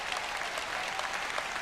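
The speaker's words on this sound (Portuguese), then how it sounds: "Alguém tem que dar uma salva de palmas ao Senhor por isso." Church congregation applauding during a sermon, a short burst of dense, steady clapping from many hands, moderately loud, with no talking over it.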